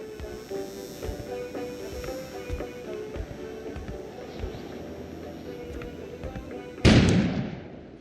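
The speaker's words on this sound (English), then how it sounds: "An explosion suddenly occurred outside." A sudden loud explosion outside in the video game Kona, a single sharp blast that fades out after a stretch of quieter background sound.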